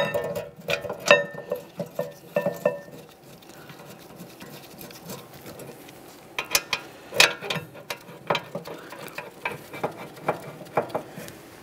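Ratchet wrench tightening the rear brake caliper bracket mounting bolts on a 2013-2015 Chevrolet Malibu, with bursts of quick close clicking strokes separated by short pauses and faint shop noise between them.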